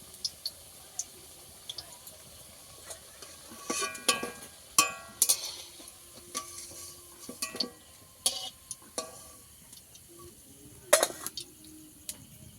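Cabbage pakoras fry in hot oil with a soft crackle, while a spoon stirs, scrapes and lifts the fritters out in scattered clicks and light splashes, close by and fairly quiet.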